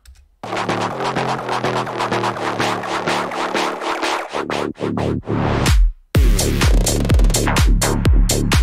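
The first drop of a modern tech house track plays loud and alone. A punchy four-on-the-floor kick pounds out a driving beat with clap, bass and hi-hats, and brief breaks cut in before the groove slams back in.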